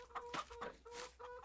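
Hens cluck in Farming Simulator 22, a run of short, clipped clucks repeating close by over a faint steady background.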